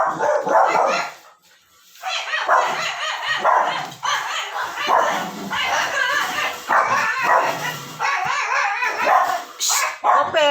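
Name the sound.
pet dogs barking noisily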